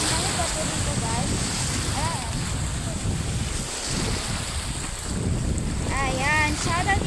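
Strong sea waves crash and churn around a boat in steady wind, with constant loud rushing and buffeting wind noise on the microphone while people talk over it.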